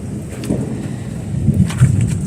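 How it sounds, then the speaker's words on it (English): Thunder rumbles low and far off during an afternoon rain, a soft, muffled roll that swells briefly and then fades, with no talking. "Some thunder in the distance."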